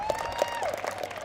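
Audience applause at an outdoor ceremony for a charity run and walk, a brief burst of scattered clapping with some crowd noise, fairly faint and at a distance.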